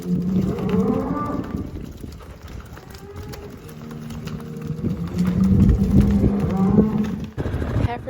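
Cattle moo repeatedly, several overlapping low calls from a herd of cows coming off a hill at moderate distance, with outdoor rumble and some shuffling movement throughout.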